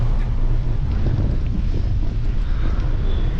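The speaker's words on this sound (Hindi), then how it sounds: "एक तो हवा का ये फ्लो है ना वो भी रुकावट पैदा कर रहा है" A strong headwind buffets the microphone of a cyclist riding uphill on a ghat section, producing a loud, steady roaring rumble with no break.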